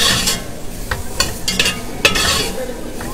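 Vegetables sizzle and simmer in a hot pan, a loud close frying hiss broken by sharp stirring scrapes and utensil clicks, with faint talk in the background.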